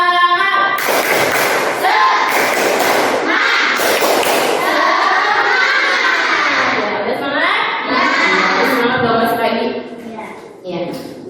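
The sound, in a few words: class doing rhythmic spirit clapping (tepuk semangat)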